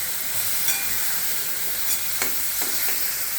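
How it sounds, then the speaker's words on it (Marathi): Boiled, smashed peas are stirred into ragda in a hot pan, giving a soft continuous sizzle with a few scraping strokes of the spoon, heard close and without talk. "हे उकडलेले आपण मटार जे आहेत ते स्मॅश करून घेतलेले, आता ते त्याच्यात मिक्स करायचे"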